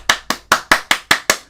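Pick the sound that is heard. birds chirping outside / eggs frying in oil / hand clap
hand clap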